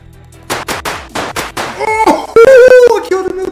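Gunshots ring out in the Roblox game Among Us, a series of sharp cracks over game music, with a person's voice mixed in near the end.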